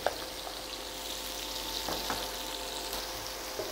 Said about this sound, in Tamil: ப்ரான்ஸ்னால நான் டைரெக்ட்லி தவாவில் போட்டிருக்கிறேன்.